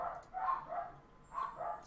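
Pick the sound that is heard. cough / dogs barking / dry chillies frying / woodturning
dogs barking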